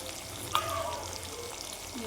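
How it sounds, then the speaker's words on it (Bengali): Chicken leg pieces deep-frying in oil in a wok give a steady, fairly faint hiss and crackle that runs without a break, with one small pop near the start. "এই যে কড়াইয়ে ছাকায় তেলে ভাজতে হবে। এই যে ভাজা হচ্ছে"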